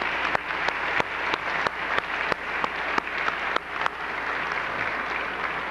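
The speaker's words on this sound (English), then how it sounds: "A round of applause for them." Applause rises from the crowd at a 1995 senior awards ceremony, a steady wash of clapping punctuated by sharp, distinct claps close by, carrying on for several seconds without speech.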